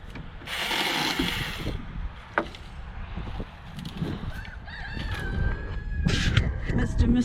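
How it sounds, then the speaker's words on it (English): A rooster crows outdoors on a cold homestead hillside, a drawn-out call rising over ambient noise and rustling, with people talking nearby. "Mister's crowing again."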